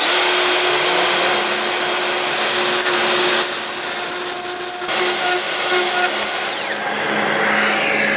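A plunge router cuts the female part of a template shape in a workshop, a loud sustained high-pitched whine with shifting tones as the bit moves through the wood, running alone without talk.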